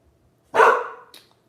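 One loud, close bark from a pet dog reacting to visitors arriving at the house, a single sharp yelp that tails off quickly, with a faint yip after it.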